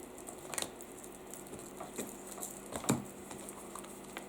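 Tarot cards being cut into three piles and shuffled, giving soft papery pats and light flicks that come in a few short bursts, close and quiet, with no talk.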